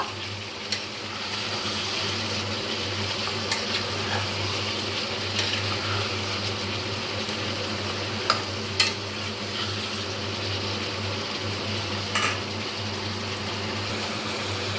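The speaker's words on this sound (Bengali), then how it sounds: "এবার দিয়ে দেব যে আলুগুলো ভেজে রেখেছিলাম, সেই আলুগুলো এর ভিতরে দিয়ে খুব ভালোভাবে নেড়ে চেড়ে নেব।" Fried potatoes stirred into chicken cooking in a pan, a low steady sizzle under soft scraping and occasional clinks of a spoon against the pot, close and without voices.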